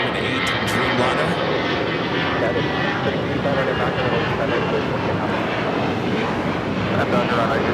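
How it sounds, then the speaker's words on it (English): A Boeing 787 Dreamliner arriving at LAX from Tokyo Haneda, its engines a steady, loud broadband roar that holds throughout, with voices talking over it. "That Dreamliner just coming in from Tokyo. Tokyo Haneda."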